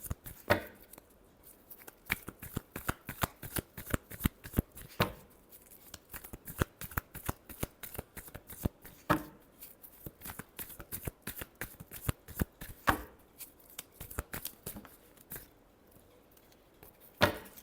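Tarot cards are shuffled by hand in a long run of crisp riffling bursts and taps, close and quiet, repeating irregularly with short pauses and no talking.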